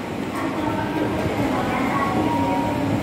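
A Tohoku Shinkansen Komachi train rumbles steadily alongside as it arrives at a station platform, a broad continuous rolling noise with faint mechanical clatter, fairly close and unbroken.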